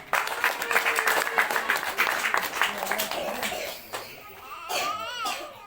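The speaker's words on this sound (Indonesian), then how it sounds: "Tepuk tangan." Audience applause at the opening of a Christian kindergarten building in Nabire, Papua, a dense burst of clapping lasting a few seconds with children's voices and chatter mixed in, then fading into brief voices near the end.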